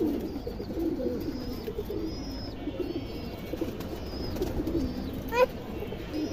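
Domestic fancy pigeons coo close by in a steady run of low, throaty calls, with a few faint higher chirps mixed in against quiet background noise.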